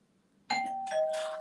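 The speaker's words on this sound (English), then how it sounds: "And there's the doorbell." A doorbell rings once with a clear electronic chime, two bright tones following each other after a brief quiet moment in a room.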